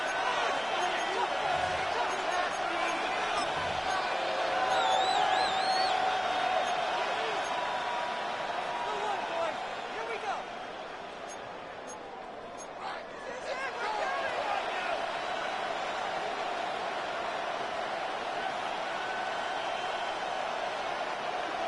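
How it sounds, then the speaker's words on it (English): A large NFL stadium crowd roars steadily during a fourth-quarter third down between the Giants and Los Angeles, a dense broad wash of noise that dips briefly before swelling again. "This crowd into it now as we get to 3rd down."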